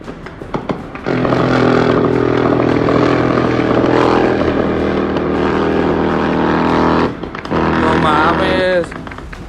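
Military aircraft flying low over ground clashes with cartel forces, a loud sustained engine and propeller roar that drops out briefly near the end before returning, with no talk over it.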